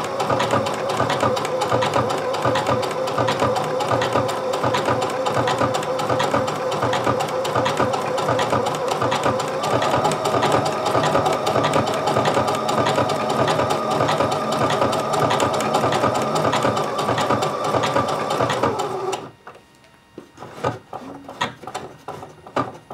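A sewing machine stitching a pair of shorts, running in a steady rapid mechanical whir for most of the time, then stopping abruptly, leaving faint intermittent clicks.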